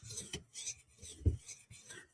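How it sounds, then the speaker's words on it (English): A recurve knife blade drawn across a 400 grit sharpening stone, giving a series of separate soft rasping strokes with short gaps between them, close and fairly quiet. "Now we're going to finish it real quick with the 400 grit stone."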